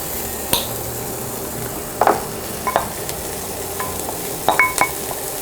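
Onions sautéing in oil in a pan for pork chili verde, a steady close sizzle with a few scattered utensil clinks and scrapes against the pan.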